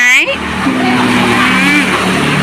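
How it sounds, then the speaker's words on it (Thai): A car drives past in front of a house, its engine loud and close, sweeping through and fading over a couple of seconds, with people talking over it. "เสียงดังในเด้อจ้าอยู่หน้าบ้านรถแล่นไปแล่นมา"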